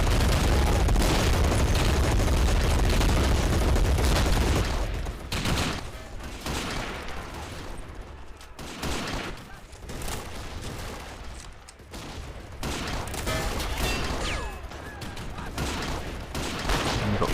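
German MG42 machine gun in the Men of War battle game at a Soviet bridge assault, rattling in dense bursts amid heavy gunfire and booms, loud at first then continuing more unevenly over the battle din.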